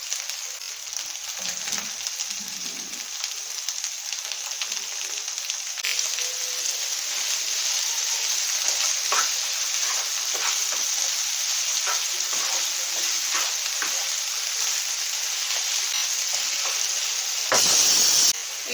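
Chopped tomatoes sizzle loudly and steadily in a hot pan with fried garlic, a continuous frying hiss with occasional stirring scrapes near the end.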